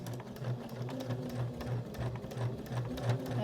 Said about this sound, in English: I'm going to back stitch it, go forward and then back stitch just a little bit to secure that strap well.